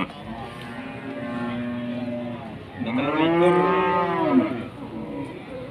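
A cow at a livestock market moos loudly twice in long, drawn-out calls, the second louder and rising, close by with a faint background hum.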